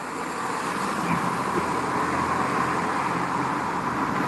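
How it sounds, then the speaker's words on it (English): Loud trucks and steady traffic roar past on a New York City street, a dense continuous rumble and whoosh that stays close and strong from start to finish with no gaps. "Enough with the loud trucks."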